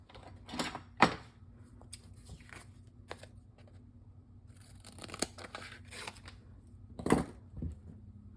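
Scissors cutting paper flowers for a card: scattered close snips and crisp paper rustles, with a few sharper cuts standing out over a quiet background and no talking.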